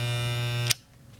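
A Wahl Icon hair clipper buzzes steadily for under a second at close range, then switches off abruptly, leaving a faint low hum.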